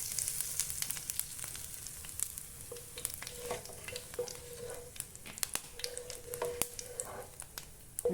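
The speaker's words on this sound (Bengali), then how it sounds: "তো জিরাটা আমার দেখুন ফোড়ন হয়ে গেছে" Cumin seeds and a bay leaf crackle and sizzle in hot oil left from frying pointed gourd, a soft steady frying hiss dotted with sharp little pops, fairly quiet and close, with no voices.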